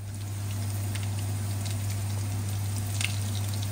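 Food sizzles in a frying pan while a Sunday meal is cooked, a steady close hiss with faint crackles over a low constant hum, and no one speaks.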